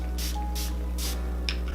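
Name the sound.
face mist being sprayed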